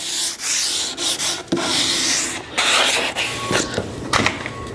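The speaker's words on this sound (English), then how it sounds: "So we got that all sanded down, sponged, ready to go." Sanding a mid-century modern wooden desk: close, steady abrasive rubbing in repeated strokes with short pauses between passes, the scratchy friction rising and falling in loudness, with no voices.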